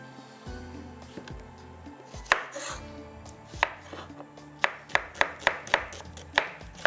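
Onion is chopped with a knife on a board: a series of sharp taps, first scattered and then in a quick rhythmic run, close and clear against a quiet room.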